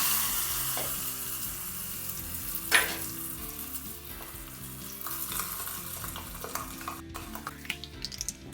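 Rice flour dosa batter sizzles steadily on a hot pan, a constant bright frying hiss with a sharper crackle burst near the start and light scraping clinks toward the end.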